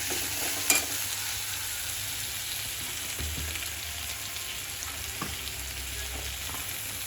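Green chili and spices sizzle and fry in a pan, a steady close crackle with occasional stirring clicks and scrapes, no voices over it.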